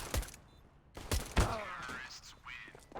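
Counter-Strike gunshots during a Wingman tournament match: a few sharp shots in quick succession, close and punchy, with a commentator speaking over and around them.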